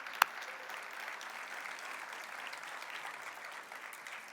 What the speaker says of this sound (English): Round of applause for this incredible panel.